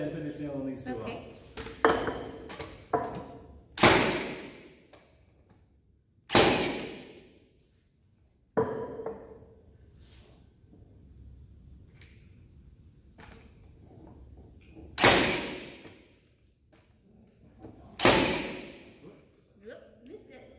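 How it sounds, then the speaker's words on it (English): Pneumatic nail gun fires several loud, sharp shots with gaps of a few seconds between them, each a hard bang with a brief ringing tail, amid quieter handling noise and talk. "Go ahead and finish nailing these two off."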